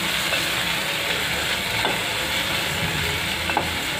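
Green masala with tomato, turmeric and other spices fries in a pan for a Konkani bean curry, giving a dense, continuous sizzle with faint stirring scrapes, close and steady, with no voices.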